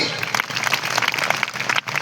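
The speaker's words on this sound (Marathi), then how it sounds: "एकदा जोरदार टाळ्या वाजवा स्वतःसाठी" An audience at a motivational stage talk for students claps loudly together, a dense crackle of applause that runs without a break through the whole moment.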